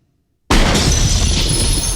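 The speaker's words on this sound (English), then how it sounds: "After shattering into thousands of pieces, the machine proves how advanced it truly is." A film sound effect of the frozen T-1000 shattering into thousands of pieces bursts in abruptly after half a second of silence, a loud close crash followed by a dense, sustained spray of breaking fragments with no talk.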